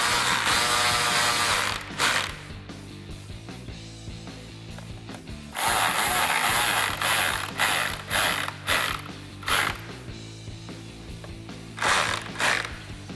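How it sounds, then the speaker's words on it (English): A ratchet driver tightening T30 Torx bolts on a Ford Bronco third brake light bracket gives repeated close bursts of rapid clicking, some long and some short, over a faint background hum. "with your T30, go ahead and tighten these bolts down as well"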